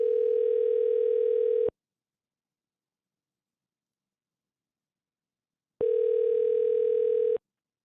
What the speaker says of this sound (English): So let's call this guy up.